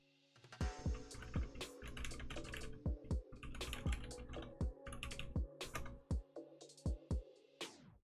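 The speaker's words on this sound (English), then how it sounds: "right now I'm just gonna do a little typing with it and just test it out" Typing on a Clix mechanical keyboard with light, fast switches like Cherry Reds: a quick run of close, crisp key clicks in uneven bursts, with a few louder isolated strokes and no voices.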